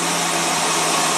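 A Ford V10 motorhome engine that had a no-start problem now idles steadily and evenly, a continuous close hum with a constant tone through the whole short stretch.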